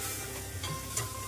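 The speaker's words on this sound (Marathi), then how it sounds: "आता हे साहित्य छान परतून घेतलं" Spinach pulao ingredients and spices being sautéed in a pan, a steady soft sizzle with a few light scrapes of stirring, close and fairly quiet.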